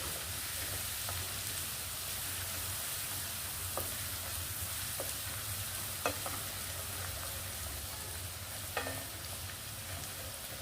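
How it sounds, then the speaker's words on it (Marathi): A ginger, garlic and coconut paste with cluster beans for a black masala dish sizzles steadily as it is roasted in a pan, a constant soft crackle with a few faint clicks of stirring throughout. "छानपैकी खरपूस परतून घेऊया याला लालसर."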